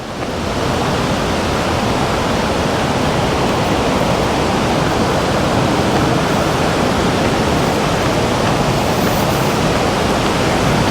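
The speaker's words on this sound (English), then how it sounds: "Here's the waterfall." Steady, broadband rush of a waterfall, loud and continuous with no pauses, heard alone without talk.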